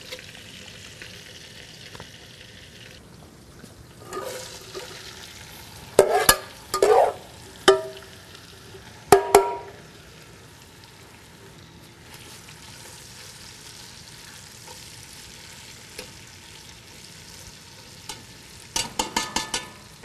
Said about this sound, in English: fry our onions and peppers.